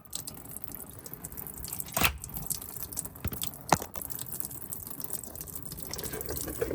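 Old engine oil from a Ford 6.0 Powerstroke diesel draining into a catch basin, a soft steady trickling and pouring with a couple of brief clanks, quiet and close.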